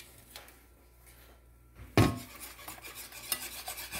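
Spoon stirring chocolate into a bread pudding mixture in a bowl, soft scraping and rubbing strokes that begin with a sharp clatter and continue as a steady, close, irregular scrape.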